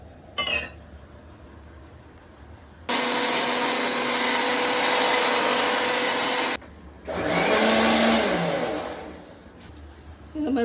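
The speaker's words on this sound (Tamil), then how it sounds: "இந்த தக்காளி வெங்காயத்தையும் நம்ம சேர்த்து அரைச்சிக்கலாம்" A kitchen mixer grinder blends tomato and onion in two loud, sustained motor whirs of several seconds each, separated by a brief pause, with a short start-up burst beforehand.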